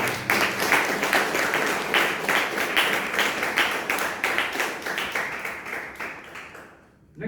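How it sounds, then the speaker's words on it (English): A Toastmasters meeting audience in Bangalore gives a loud, dense round of applause with many distinct claps close by, sustained for several seconds before tapering off abruptly near the end. "can we give a loud round of applause for"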